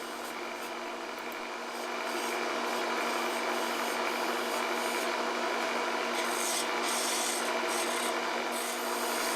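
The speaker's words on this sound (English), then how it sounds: "it's just using my detail gouge, I'm going to go ahead and finish everything off and give it the final shape that I want" A detail gouge cuts and shapes a wooden table leg spinning on a lathe, giving a steady, close rasping scrape over the machine's constant hum, which swells slightly after the first seconds.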